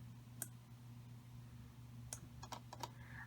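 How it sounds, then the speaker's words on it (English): Computer keyboard keys click in a few sharp, separate taps, one early and a quick cluster near the end, over a steady low electrical hum while a Silhouette Curio 2 design is edited on screen. "I'm going to click Shift on my keyboard"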